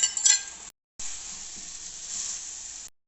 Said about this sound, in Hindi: अब हम इसमें ऑमलेट ऐड करेंगे, जो कि हमने बना के काट के रखी हुई थी